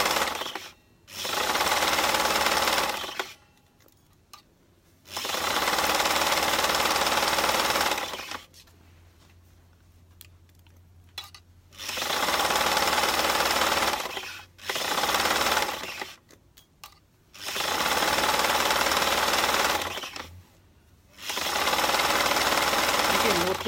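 A sewing machine stitches stretch fabric for a maxi skirt in several sustained loud runs of a few seconds each, broken by quiet gaps, with brief rustling and handling noises between runs.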